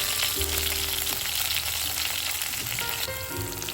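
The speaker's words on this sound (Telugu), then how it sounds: "వీటిని ఆయిల్లో మంచిగా ఫ్రై చేసుకోవాలి." Green chilies, garlic cloves and cumin seeds frying in hot oil for a bottle gourd chutney, a loud continuous crackling sizzle heard up close with no talk.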